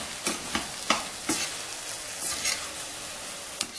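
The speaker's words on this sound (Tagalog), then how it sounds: "Tapos po, haluin natin siya, ganyan, para mag-mix siya." Cooking burong mustasa, fermented mustard greens, by stirring the mixture in a sizzling pan: a run of rhythmic scraping strokes over a steady fry crackle, close and clear with no talk.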